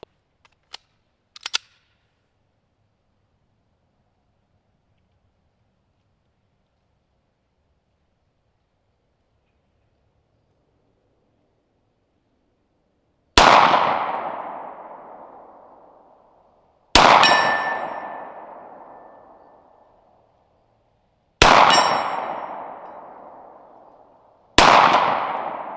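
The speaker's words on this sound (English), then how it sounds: "So let's try it at 60 yards and see if it can hit any of these steel targets over here." A SIG P226 pistol fires at steel targets 60 yards away, each shot a sharp report followed by a ringing metallic clang that decays slowly; four evenly spaced hits follow a few faint early pops and a long quiet gap.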